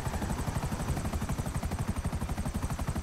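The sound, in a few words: helicopter in the video game GTA 5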